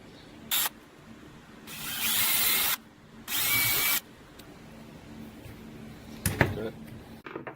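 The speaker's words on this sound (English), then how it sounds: "drill a hole straight in 1 inch deep" A power drill bores a hole into an E-series door galley panel in two loud whirring bursts of about a second each, with a brief tool sound before them and light handling clatter afterward, close and unaccompanied by talk.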